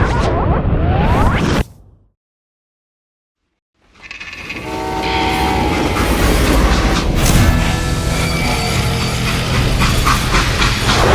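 A train rolls along the rails in the Western video game Call of Juarez Gunslinger, loud and close, with a horn blast and a whoosh. The sound cuts to silence for about two seconds, then the steady rumble returns.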